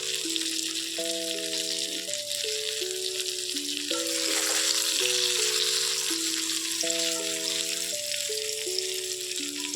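A hilsa fish head fries in a pan with a steady sizzle that holds at one level the whole time, while soft instrumental music plays over it.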